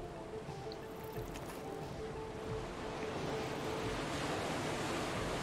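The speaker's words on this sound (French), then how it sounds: "Sympa le petit bruit du vent sur la plage et tout" Wind gusting along a beach in the video game Dying Light, a steady broad rush mixed with surf-like wash, fairly quiet and continuous throughout with no voices.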